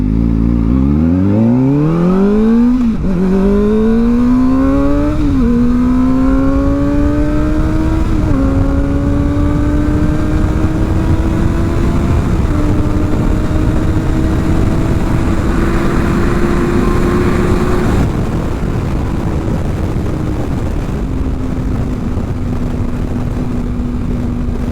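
A motorcycle with a new aftermarket exhaust pulls away and runs up through several gears, its engine note climbing and dropping at each shift before settling into a steady loud cruise.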